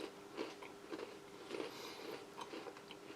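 Crunchy brown oat wholemeal biscuit from a Dutch military ration being chewed up close, a quiet, steady series of crisp bites and crunches at roughly half-second intervals with no talking.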